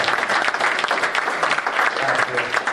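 Applause from a political gathering's audience: brisk, dense clapping from many hands, loud and continuous over a few seconds.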